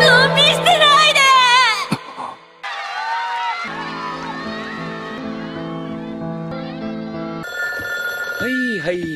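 A telephone rings in an anime scene, its bright repeated electronic tones layered over music and voices, then a spoken answer follows as the ringing gives way to dialogue.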